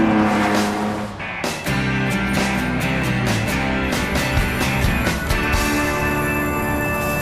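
Lamborghini Diablo on the Goodwood Motor Circuit, engine note loud and continuous with shifting harmonic tones as it accelerates and changes gear, a brief dip in level then sustained hard running.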